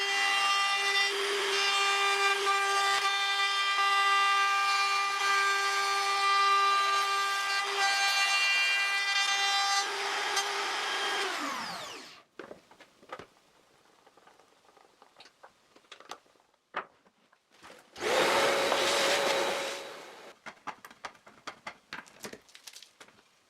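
A router trims a round frame glued up from oak planks, guided by a pivot jig: a loud sustained whine for about twelve seconds that winds down, then scattered knocks and one more short burst of cutting.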